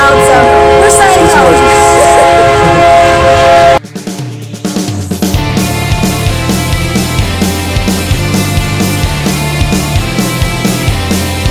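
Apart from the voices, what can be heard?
train passing loudly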